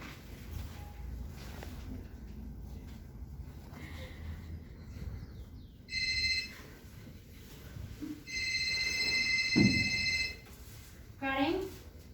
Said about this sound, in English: In the evening, the phone rang.